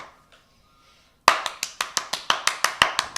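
One person on a podcast claps after hearing a story: about a dozen sharp, evenly spaced claps, close and loud, begin after a second of near silence and keep a steady quick rhythm.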